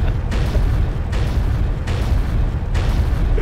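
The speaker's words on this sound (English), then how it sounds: "Can I artillery strike myself?" Artillery strike explosions in the tank game Panzer Knights, a run of loud, deep rumbling booms recurring about every eight tenths of a second and blending into one continuous roar.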